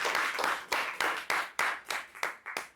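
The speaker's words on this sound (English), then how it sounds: "I think we need to give him another applause." A small audience at a Quitman, Georgia city council meeting claps for the fire chief, about a dozen distinct, fairly loud claps in a loose rhythm, each decaying quickly, with no talk over them.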